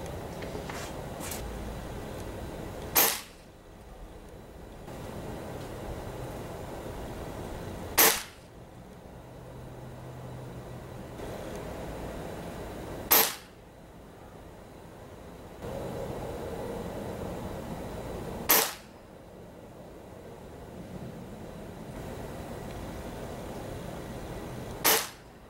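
Five sharp, isolated shots from a suppressed Stoeger ATAC gas-ram .22 air rifle firing RWS Superdome 14.5-grain pellets, spaced several seconds apart over a quiet outdoor background.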